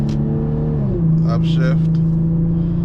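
An Infiniti engine revs in manual mode, its steady drone rising in pitch as RPM climbs, with someone talking over it.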